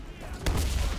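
A single heavy gunshot or boom in the WW2 shooter Enlisted, one loud close crack over a rumbling low battlefield background.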